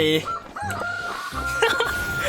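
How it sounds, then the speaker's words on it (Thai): Chicken clucking and crowing-like calls from the video game Free Fire, several short fowl calls repeating over game background sound. "ไก่"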